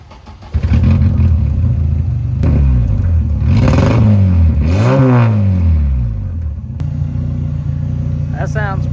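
A Mk1 Rabbit pickup truck engine with its muffler removed is revved hard several times, rising and falling loudly and close-up, then settles back to a steady raw idle.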